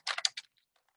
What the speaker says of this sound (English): And then I'm going to type something like, are you having